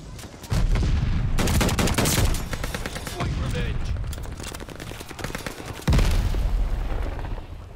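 Gunfire from a marksman rifle in the video game Call of Duty: Vanguard, several loud bursts of shots spread across the clip, with a player's voice speaking between and over them.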